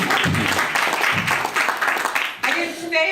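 Audience applause at a Black Caucus meeting, a steady wash of clapping that fills the room at moderate loudness, with a voice speaking over it and music-like tones creeping in near the end.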